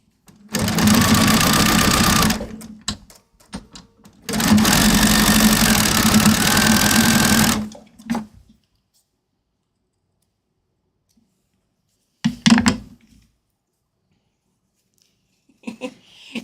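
A sewing machine stitches fabric in two long, steady runs of several seconds each, loud and close, followed by a short burst and a faint tap near the end, with no talk.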